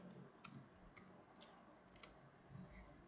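A web address is typed on a laptop keyboard, heard as a few faint, sparse key clicks at irregular intervals against a quiet background.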